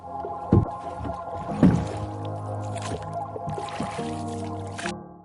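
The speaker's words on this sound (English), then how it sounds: "First is this paddles rowing sound 4." Rowboat paddles dip and pull through water in a steady stroke pattern, with thick splashes and watery gurgles and sloshing between strokes, close and fairly loud.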